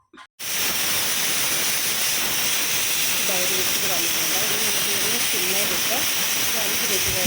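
A pressure cooker on a gas stove, cooking pumpkin curry, lets out a loud, sustained steam hiss close by that starts abruptly and holds steady, with a voice murmuring faintly beneath.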